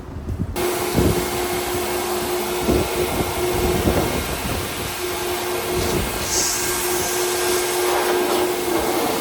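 A loud, steady blast of air roars continuously after a brief quieter start, with faint clunks and rattles underneath, from a tunnel car wash air dryer blowing.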